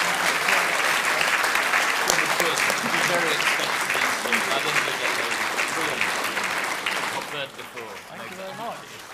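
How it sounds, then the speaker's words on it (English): An audience at a school question-time event applauds its student and main panellists, a loud, dense wash of clapping that holds steady and then tapers off near the end. "a massive round of applause once again for our student and our main panellists"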